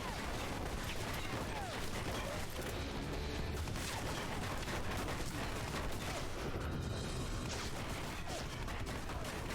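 Rifle gunfire in Alpha Protocol, a dense, relentless fusillade of overlapping shots and bursts that never lets up, loud and chaotic throughout a firefight.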